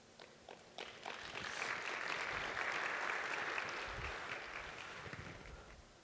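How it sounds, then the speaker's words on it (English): An audience at a live developer talk in Toronto breaks into applause, starting with scattered claps that swell into a soft, sustained round of clapping heard at a distance before fading. "I get applause for 2 lines of markup"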